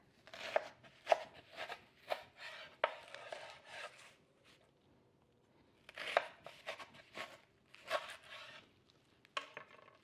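A kitchen knife slices through leeks lengthwise on a board for potato and leek soup, a series of close, crisp chopping strokes in irregular bursts with short pauses between them.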